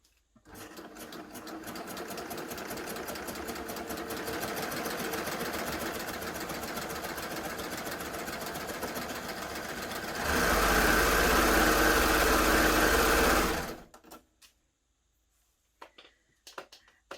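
A Baby Lock Gloria combination cover stitch and overlocker runs steadily for about ten seconds, then speeds up into a louder, denser whir for a few seconds before stopping abruptly, with a few faint clicks after.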